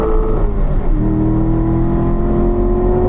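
A car on a track accelerates hard and shifts up into fourth gear, its loud, close engine drone briefly dipping in pitch at the shift before holding a steady, strong roar.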